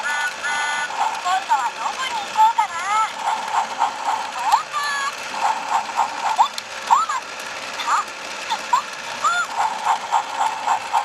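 Motorized Thomas toy train runs on a wooden track, giving a steady whirring mechanical rattle with clicking gears, close and continuous, while a high voice and chirpy sounds come and go over it.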